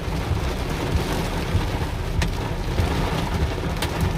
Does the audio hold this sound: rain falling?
yes